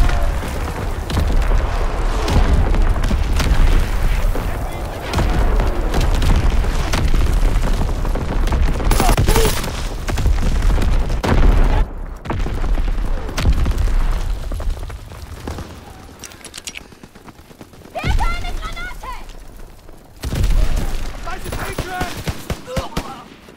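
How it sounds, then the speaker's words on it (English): Heavy World War II battlefield combat in the Ardennes Forest, with booming artillery blasts and rattling gunfire rolling on almost without pause, loud and dense, with brief lulls near the end. "Incoming enemy artillery!"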